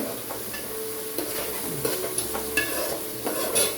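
Salted onions being sautéed for tomato rice, a soft continuous sizzle broken by the scrape and clatter of a spatula stirring the pan, close and fairly even.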